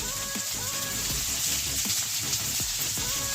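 Mixed vegetables for a Bengali dal sizzle in a pan with a steady, close, rain-like hiss, broken by occasional soft clinks and scrapes and faint background tones.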